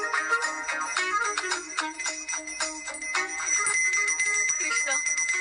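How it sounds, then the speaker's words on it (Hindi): A mobile phone ringtone rings by itself in a horror-comedy film scene, a bright repeating electronic melody sounding steadily and fairly loud throughout with no talk over it. "मैं कहाँ बजा रहा हूँ बेटा, ये तो अपने आप बज रही है।"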